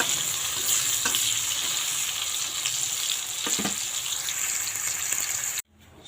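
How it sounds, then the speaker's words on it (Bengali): Bitter gourd slices fry in hot oil in a home kitchen, a steady loud sizzle with occasional stirring scrapes, continuing without talk until it cuts off abruptly near the end. "তো উচ্ছেটা ভেজে নামিয়ে নিই, তারপর তরকারি বসাবো।"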